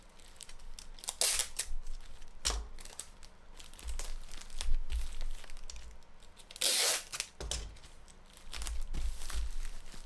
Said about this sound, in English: I'm probably going to fold this over and tape that down.